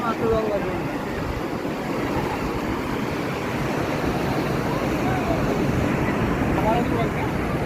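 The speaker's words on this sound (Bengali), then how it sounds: "আজকে সমুদ্র উত্তাল বেশি কালকের চেয়ে।" Rough sea surf rolling and crashing on a shore under red-flag conditions, a continuous broad wash of waves mixed with wind buffeting the microphone, with people talking faintly nearby.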